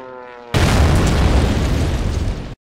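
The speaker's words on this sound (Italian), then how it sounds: "Guarda una, una bomba." A bomb goes off with a sudden, loud, roaring blast that holds steady for about two seconds and then cuts out abruptly, following a brief quieter moment.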